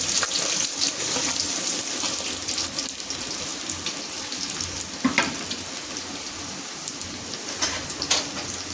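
Onions and green chillies frying in oil for a prawn curry give a steady, hissing sizzle like light rain, with a few soft utensil taps and stirring bumps along the way.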